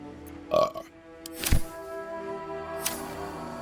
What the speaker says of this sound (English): That burp wasn't part of it. That was just a burp.